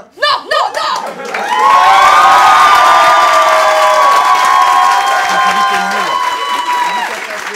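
A live audience bursts into loud cheering, shouting and clapping for an applause meter, a dense sustained roar with high excited voices that swells after a few short shouts and holds for several seconds.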